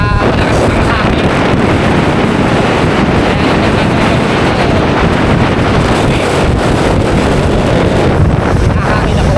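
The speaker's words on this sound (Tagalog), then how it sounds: "Ang lamig dito. Tsaka malakas ang hangin." Strong cold wind batters the microphone on a boat trip to Calayo, Batangas, a loud continuous roar with engine and water noise beneath, while a voice speaks over it.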